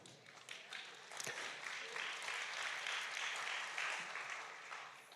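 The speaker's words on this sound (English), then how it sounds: "I don't need the clapping" An audience applauds at an evening church gathering, a dense wash of clapping that swells and holds steady for several seconds before easing off.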